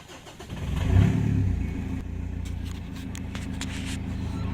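A Mitsubishi Triton L200 with a new exhaust starts from cold, a quick crank catching into a rising rev that settles into a steady, lumpy idle, close by with no talk.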